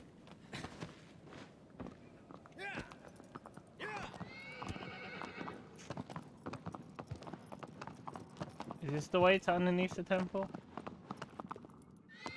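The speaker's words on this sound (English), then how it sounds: "Come on, horse." A horse in the video game Shadow of the Colossus clip-clops along at a steady pace, then whinnies loudly near the end, with someone talking over the hoofbeats.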